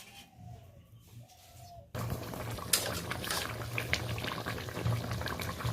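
A pot of fish curry with ridge gourd and potato bubbling at a steady boil, a continuous close simmering hiss with occasional pops. A quieter, thinner passage comes before it.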